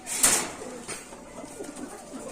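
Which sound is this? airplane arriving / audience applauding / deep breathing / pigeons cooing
pigeons cooing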